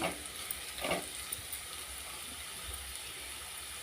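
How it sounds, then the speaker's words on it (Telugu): Carrot curry fries in a pan as a steady, moderately loud sizzle continues close up, with a couple of brief stirring scrapes early on and no one speaking. "పది నిమిషాల పాటు ఇలా ఫ్రై కావాలి"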